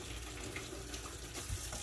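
Tap water runs steadily over a shoe being rinsed under a faucet, a continuous close splashing wash with no talk.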